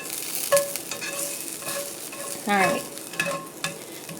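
Vegetables sizzle in a hot pan with garlic while a spoon stirs and scrapes them, including one louder scraping sweep midway, and a voice speaks briefly.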